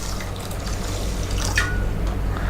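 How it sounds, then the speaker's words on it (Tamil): Water poured over foxtail millet set to soak for dosa batter, a continuous close splashing and trickling that rises slightly midway, with no talk. "இப்போ வந்து தினைக்கும் நம்ம வந்து தண்ணி ஊற்றிக்கலாம்."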